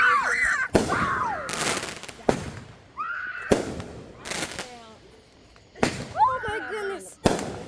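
Fourth of July fireworks burst nearby in a string of sharp, loud bangs spaced about a second apart, separated by quieter gaps, while a person exclaims and talks between the blasts.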